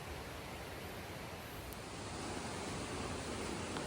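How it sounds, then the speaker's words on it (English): A river flows before dawn beneath a bridge, a steady, even broadband rush of water that stays continuous and moderately loud throughout, with no voices. "You could hear the river here."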